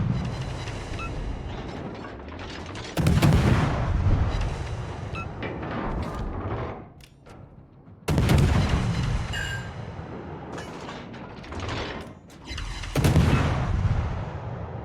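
Heavy naval guns of the Soviet destroyer Kiev in World of Warships, booming salvos that recur every few seconds with rumbling tails, loud and close against a low background.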